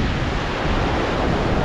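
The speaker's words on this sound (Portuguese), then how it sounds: "Olha o tamanho dessas ondas" Large storm-surf waves break at Praia Grande beach in Arraial do Cabo, a loud, continuous roaring wash of water and wind that fills the whole moment.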